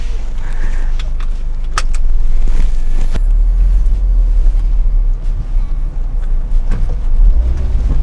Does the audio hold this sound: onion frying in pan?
no